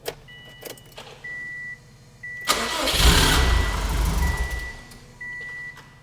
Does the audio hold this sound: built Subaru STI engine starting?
yes